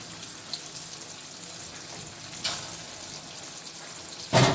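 Vegetable stalks and potato go into a spiced masala frying in a pan, making a low steady sizzle with a couple of louder hissing bursts as ingredients hit the oil.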